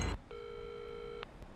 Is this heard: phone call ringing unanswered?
yes